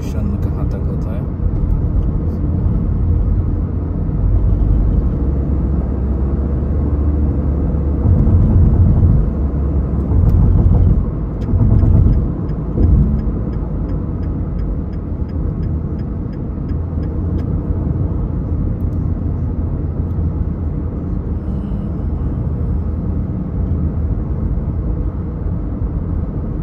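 Car driving through Dubai night traffic, a steady engine and road rumble from inside the car with a few louder passing swells midway, and someone talking over it.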